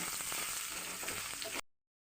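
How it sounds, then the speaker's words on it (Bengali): Soybean chunks frying in hot oil in a pan: a loud, steady close-up sizzle with faint stirring scrapes, cutting off abruptly into silence. "সয়াবিনগুলো লাল লাল হয়ে ভাজা ভাজা হয়ে তুলে নেব"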